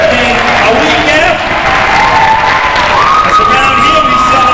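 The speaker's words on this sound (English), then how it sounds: "a nice round of applause for these children" Loud, continuous applause with cheering and whoops from a crowd at a school Earth Day show celebrating children, with voices shouting through the clapping throughout.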